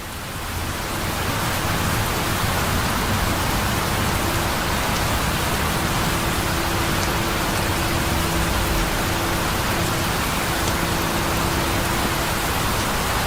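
Rain falls in a dense, even hiss that fills the scene from start to finish, loud and unbroken with no voices.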